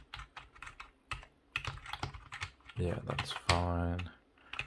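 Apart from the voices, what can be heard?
typing on Trust GXT 830-RW Avonn gaming keyboard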